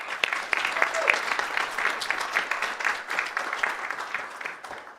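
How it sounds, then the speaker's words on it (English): A church congregation claps in a steady, moderately loud round of applause with distinct individual claps, a few voices faintly audible underneath, fading slightly toward the end. "let's give a hand of applause for all of those people"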